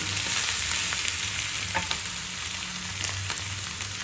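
Potatoes fry in hot oil in a pan while being stirred, giving a loud, continuous sizzle with scraping stir sounds up close. No one talks.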